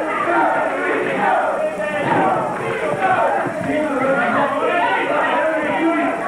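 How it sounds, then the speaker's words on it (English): Wrestling arena crowd at a 1978 Big Time Wrestling match chants for the Sheik, a loud, continuous roar of massed voices with rhythmic shouting swelling and dipping throughout. "Now the crowd chanting, go Sheik, go."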